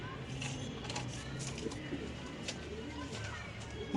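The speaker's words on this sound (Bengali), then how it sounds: "মাশাআল্লাহ দেখেন বিশাল বড় সাইজের এক পেয়ার লাহোরি কবুতর।" Large Lahori pigeons in a breeding loft cooing softly in repeated low calls, fairly close, over a faint background hum, with a brief louder knock at the end.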